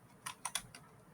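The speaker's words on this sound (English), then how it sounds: "I'll just type the name of it." Typing on a computer keyboard: four quick, close key clicks in a short, uneven burst against a quiet background.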